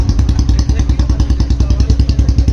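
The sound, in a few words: Royal Enfield Bullet 350 motorcycle engine revving on throttle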